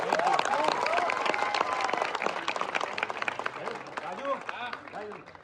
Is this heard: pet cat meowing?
no